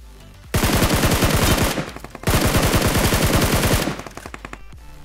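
Rapid automatic gunfire from the PUBG Mobile shooter game plays in two loud sustained bursts, each a fast, even rattle of shots with a short gap between them, trailing off into scattered quieter shots.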